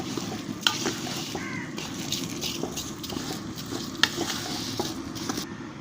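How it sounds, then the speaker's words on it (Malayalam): Washed rice frying in a pan with masala and onions for egg dum biryani, a steady close sizzle with occasional scraping stirs and clinks of the spoon against the pan. "നമ്മുടെ അരി ഒന്ന് ഫ്രൈ ചെയ്തെടുക്കാം"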